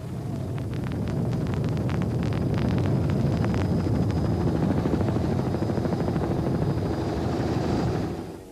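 A helicopter filming a 1997 Toyota 1000 motorcycle race drones loudly and continuously overhead, its rotor beating in a steady low thudding rumble that fades slightly at the end.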